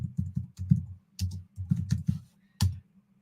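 Keys clatter on a computer keyboard in short bursts of quick clicks, several clusters separated by brief pauses, close and clear with no talking.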